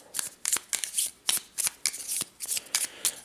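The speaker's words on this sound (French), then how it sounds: "Nous allons prendre 5 tuiles, puis nous allons mélanger le tout." Cardboard tiles for the Sub Terra board game being shuffled by hand, with quick bursts of rustling and clacking in a brisk, irregular rhythm, close up.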